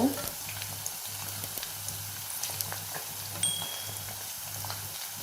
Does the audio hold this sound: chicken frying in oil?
yes